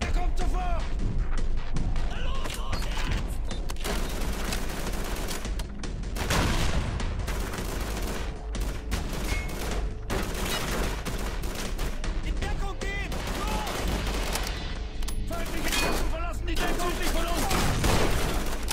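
Gunfire from the Call of Duty 3 video game at a fuel plant: dense, continuous bursts of shots and heavy booms, loud and overlapping, with voices talking throughout.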